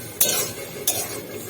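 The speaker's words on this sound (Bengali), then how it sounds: "ওর সাথে আমি লঙ্কা কুচিও দিয়ে দিলাম, দিয়ে একটু ভালো করে আমি চালিয়ে দেবো" Chopped green chili is stirred in a pan for chili chicken, with two sharp scraping clinks of a utensil against the pan over a soft background sizzle.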